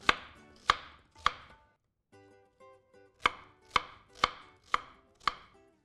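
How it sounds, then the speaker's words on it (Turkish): A knife chops onions coarsely on a cutting board with crisp, sharp strikes, three in quick succession, a short pause, then six more at a steady rhythm, close and clear. "İri doğrayacağım soğanlarımı."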